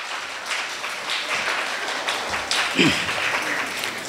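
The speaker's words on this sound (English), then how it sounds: "you can give yourself a round of applause for your hard work" Schoolgirls and guests at a city week prize-giving for primary and secondary schools clap for the students' craft work, moderate applause running throughout with a voice briefly rising over it.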